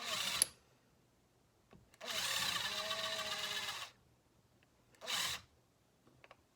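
A power drill whirs in two bursts, drilling holes into an Easyboot Glove Soft horse hoof boot: a long run of about two seconds and a shorter one, with quiet pauses and small clicks between.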